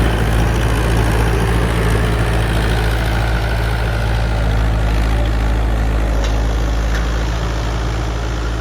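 A Mahindra 585 DI tractor engine runs loud and close with a deep, constant diesel rumble that holds steady for the whole stretch.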